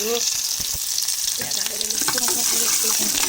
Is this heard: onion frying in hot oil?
yes